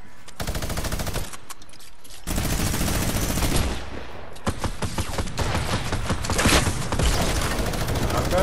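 Rapid, sustained machine-gun bursts and overlapping shots from a shooter video game, loud and close, with short pauses between volleys.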